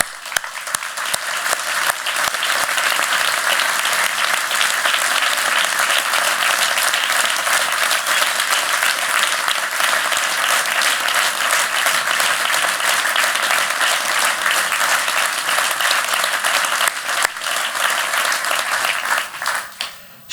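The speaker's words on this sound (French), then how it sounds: "applaudissons-les" Loud, sustained applause from a large audience at a Rennes municipal election campaign rally, a dense continuous wash of clapping lasting about twenty seconds before tapering off at the end.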